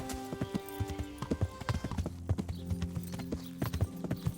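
Steady clip-clop of horse hooves at a trotting rhythm in the video game Kingdom Come: Deliverance, fairly close, with faint ambient background and no talking.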